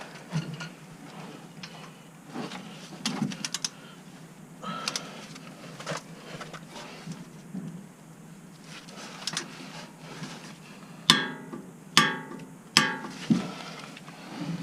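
A torque wrench tightens the front brake caliper retaining bolts on a Toyota Tundra to 80 pound-feet. Scattered light metallic ticks and ratcheting lead up to several sharp, loud clicks near the end, close by, with no speech.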